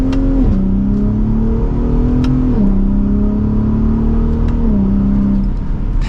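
A 2023 Ford F150 Raptor pickup accelerating hard from second gear, the engine loud and close from inside the cab, climbing in pitch through several quick gear changes with brief dips between shifts.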